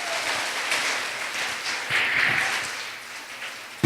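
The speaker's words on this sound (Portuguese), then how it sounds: "Pode aplaudir o Senhor." A church congregation claps in a steady, moderately distant wash of applause that swells briefly midway, with no speech over it.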